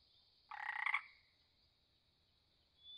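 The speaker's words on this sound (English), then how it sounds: "Bullfrog." A bullfrog gives a single loud, close call lasting about half a second, heard alone against a quiet background with a faint steady high hiss.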